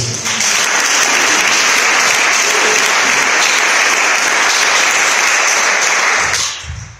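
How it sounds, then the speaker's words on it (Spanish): A church congregation bursts into sustained, dense applause during a Spanish-language sermon, many hands clapping loudly and evenly for about six seconds before it quickly fades out. "Denle un aplauso al que vive"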